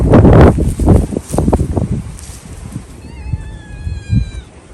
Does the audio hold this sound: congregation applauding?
no